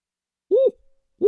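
An owl gives a clear, close hoot, followed by the start of a second hoot after a short pause, set against silence.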